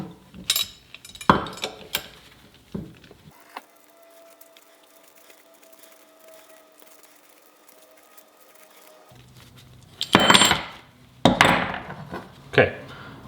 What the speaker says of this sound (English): You start by cutting the tube here.